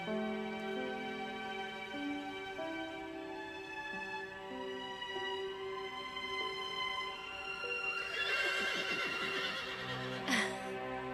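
Several loud, drawn-out horse whinnies with tremulous pitch, followed by a brief burst of hoof clatter and shuffling near the end, at a horse refuge.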